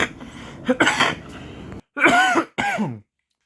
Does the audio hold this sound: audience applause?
no